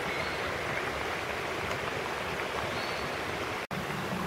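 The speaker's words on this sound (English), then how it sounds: "The downstream sluices are now opened and the mooring lines kept slack to enable the boat to drop without becoming suspended on the lines, whilst the lock empties" Water rushes steadily through the open downstream sluices of Buscot Lock as the lock empties, a loud, continuous broadband roar with no talk.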